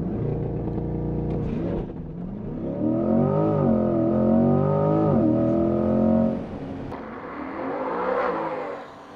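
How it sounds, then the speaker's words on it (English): A Corvette C8 on a race school track launches from a standstill, its engine revving hard and climbing through the gears, loud and close, then easing off before surging again. "I mashed the gas."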